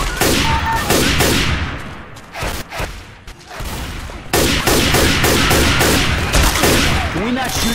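Rapid gunfire bursts and automatic weapon fire rattle loudly from Left 4 Dead 2 at the Dark Carnival, with dense overlapping shots that dip briefly midway before resuming, while players talk over the action.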